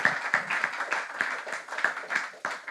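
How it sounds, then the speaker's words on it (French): An audience at a French business conference applauds, a steady patter of many hands clapping for a few seconds, moderately loud with no talk over it. "Je vais vous prier une dernière fois de les applaudir."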